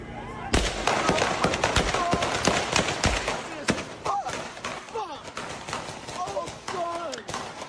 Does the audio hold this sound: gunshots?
yes